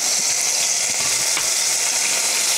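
Okra fries in hot oil with a dense, steady sizzle and crackle, close and loud, no voices over it.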